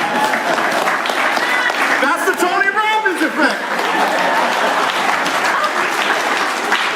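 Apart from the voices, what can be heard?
audience applause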